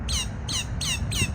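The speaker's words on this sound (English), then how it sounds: "I'm all the way in Zimbabwe looking at this bird." A bird in Zimbabwe gives four loud, harsh squawks in an even rhythm, each with a falling, rasping tone. The calls are close and clear, with no talk.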